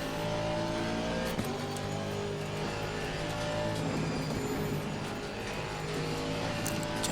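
Race car engine in the Assetto Corsa Competizione racing game, a loud continuous drone with shifting revs and a brief tire squeal, steady throughout with no talking.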